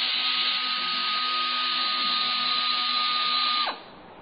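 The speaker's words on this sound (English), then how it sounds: "that's about all our compressor is going to take. As you can hear, it's winding down." Dotco pneumatic belt sander running steady and loud as its compressor air supply runs out, then winding down abruptly near the end into quiet.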